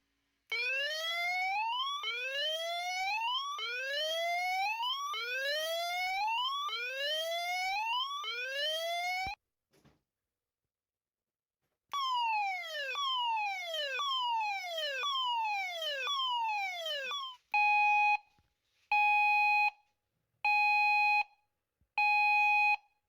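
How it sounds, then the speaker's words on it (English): Siren tones from a salvaged alarm unit with a flashing light: loud, rapidly repeating rising wails, a pause, more wailing, then four evenly spaced steady electronic beeps. "The flashing light still works, and so do the annoying alarm sounds"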